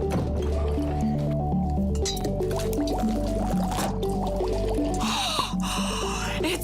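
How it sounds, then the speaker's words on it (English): Liquid bubbling and fizzing in a kids' experiment, with wet gurgles, squishes and light clinks of a container, fairly close under a steady musical tone, with no clear talk. "It's bubbling."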